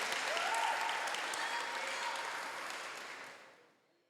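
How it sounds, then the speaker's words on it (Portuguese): A church congregation claps loudly in praise during a sermon, a thick, sustained roar of many hands that gradually thins and fades out into near silence. "Se é para Jesus, aplauda mais forte."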